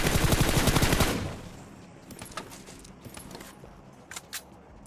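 A burst of rapid M4 rifle fire in a video game for about a second, followed by a few scattered softer clicks and thuds, with no speech.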